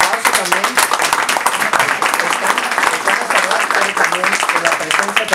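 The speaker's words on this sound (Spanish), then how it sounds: "Y allá el aplauso también." A crowd claps at an outdoor Carrera Azul charity run for autism featuring Zumba instructors, lively uneven applause with crisp individual claps, while a voice talks over it.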